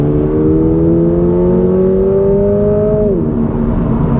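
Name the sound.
Toyota GR86 engine revving, from the video game-free road test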